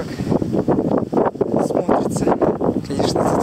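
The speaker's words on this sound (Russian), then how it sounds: "Конечно, тут ветер." Wind gusts across the microphone outdoors on a frosty day near Simeiz, a loud, rough, continuous buffeting with low rumbling bursts, and a voice appears faintly mixed in.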